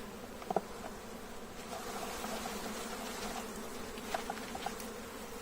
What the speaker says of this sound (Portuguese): eu quero descer com essas abelhas que estão aqui na melgueira pro ninho